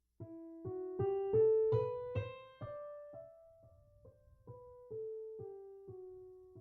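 Piano notes of the E natural minor scale played one at a time in a steady stepwise run, rising and then descending again, clear and moderately loud with no voices.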